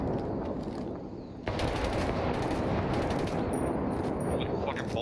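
Dense, sustained automatic gunfire in the Ghost Recon Wildlands video game, a loud unbroken rattle of rifle and machine-gun bursts that briefly drops away before resuming even louder.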